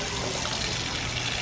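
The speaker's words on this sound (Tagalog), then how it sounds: "i-rinse nyo siya sa tubig." Peace lily roots are rinsed in water, giving a continuous close sloshing and running-water wash at an even level with no pauses.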